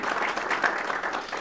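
An audience applauds the organizers of an awards evening, dense sustained clapping from a crowd that fills the short moment evenly.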